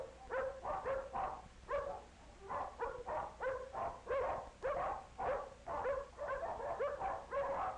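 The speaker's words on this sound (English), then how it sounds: "It sounds as though there are many dogs nearby." Many dogs in a dog pound bark and yip in a dense, overlapping chorus, some nearer and some farther off, continuing without pause.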